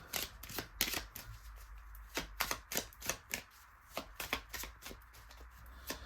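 Tarot cards being shuffled and drawn, a run of crisp riffling bursts and soft slaps repeating steadily at close range with no voices.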